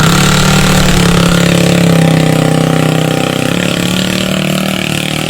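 A Yamaha XTG 125 motorcycle engine runs steadily nearby, a loud, even, buzzing drone that holds without revving for several seconds, with no talking.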